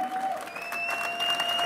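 A crowd at a village kermis bike race in Kapellen applauds the winner crossing the line, with sustained clapping mixed with whistles and an announcer's amplified voice over it.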